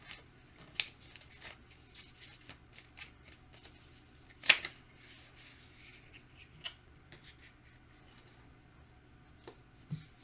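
Astrology cards are handled and shuffled close up, soft riffling and sliding with scattered light taps and flicks, quiet and intimate with no talking.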